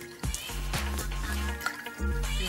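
A bartender pouring a drink at a seaside bar set up in a TV studio, with liquid glugging and splashing into a glass in a few short bursts, close and clear.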